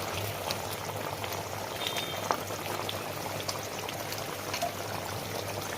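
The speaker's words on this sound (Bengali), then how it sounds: "একটু নেড়ে দিচ্ছি" Hilsa curry in mustard oil bubbling and simmering in a pan while being stirred, a steady soft bubbling hiss with faint clinks, fairly quiet and with no talk.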